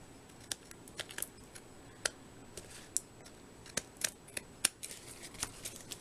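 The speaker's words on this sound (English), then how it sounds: "I want to go ahead and trim those off." Scissors snip repeatedly through excess card stock while a Thanksgiving greeting card is being trimmed, giving crisp, irregular cutting clicks close by, with no talking.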